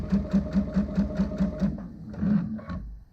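A Baby Lock Altair sewing machine stitches a quilt binding seam, running in a fast steady rhythm of close repeated stitch pulses before a short pause and a brief second burst, loud and near.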